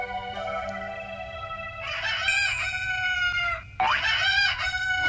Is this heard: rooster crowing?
yes